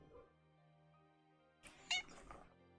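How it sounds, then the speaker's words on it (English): A house cat lets out a short, close meow after a quiet stretch, with rustling and bumping against a microphone around it. "Oh, kitty cat time."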